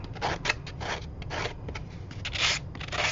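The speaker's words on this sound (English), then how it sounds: "rub it with the back of these scissors" Repeated scraping and rubbing strokes of the back of scissors against paper letter edges, close up, in an uneven rhythm of short bursts with no talking.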